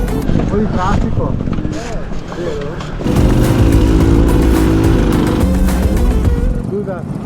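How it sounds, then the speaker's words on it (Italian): Cars and motorcycles in road traffic in Tunisia. Engines rumble nearby and swell louder midway as a vehicle passes close, while people talk over the steady drone. "Un po' di traffico."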